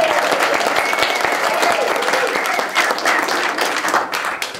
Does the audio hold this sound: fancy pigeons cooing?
no